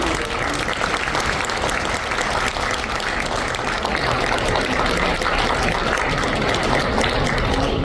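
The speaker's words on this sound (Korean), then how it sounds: "여러분 큰 박수로" Sustained, dense applause from a large audience at a commemorative talk concert in a hall, a steady loud wash of clapping lasting throughout with no break.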